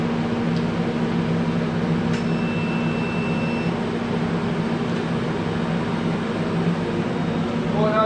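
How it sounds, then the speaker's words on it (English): Pump on an induction heater runs steadily and fairly loud, a constant mechanical drone with a faint high whine that stays level throughout, with no talk over it. "So I'll just turn the pump on."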